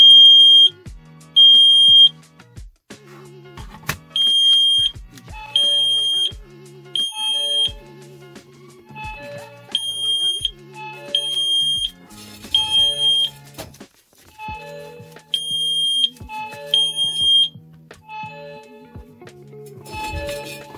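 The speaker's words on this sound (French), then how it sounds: "Le détecteur de fumée détecte bien de la fumée." A Wi-Fi connected smoke detector, set off by smoke, beeps loudly in repeated high-pitched bursts, in a regular rhythm that continues throughout, with clattering noises in between.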